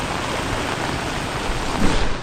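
Heavy monsoon rain pours down on a Konkan village as a dense, unbroken hiss that stays steady and fairly loud throughout, with a slight swell near the end.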